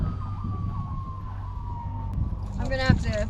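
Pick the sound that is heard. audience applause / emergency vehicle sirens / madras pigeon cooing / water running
emergency vehicle sirens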